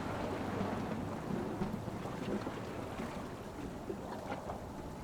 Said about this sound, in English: The wild waves rock your boat from side to side as you hastily turn your wheel to counteract each wall of the ocean water.